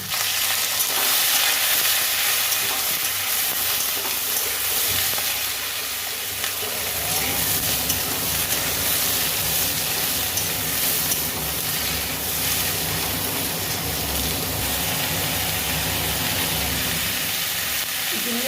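Food sizzles and hisses steadily in a hot pan, a loud continuous fry close up, with occasional faint clinks and stirring.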